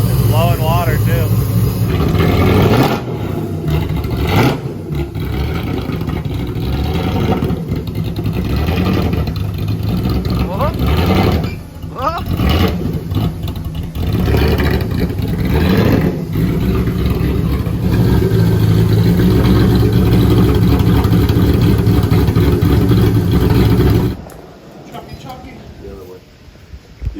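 A 1000-horsepower police car engine revs hard on a dyno, a loud, dense roar with rising and falling pitch that holds for about 24 seconds before cutting off sharply, with voices over it.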